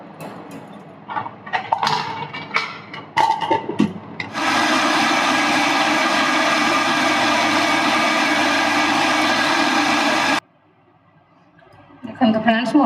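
A mixer grinder jar runs steadily for about six seconds, grinding soaked rice with added water into batter, a loud continuous whine that cuts off abruptly, with talk before and after.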